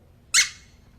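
A soap bubble poked in the middle with a licked fingertip gives one short, bright squeak that rises sharply and then fades, heard up close with nothing else going on around it.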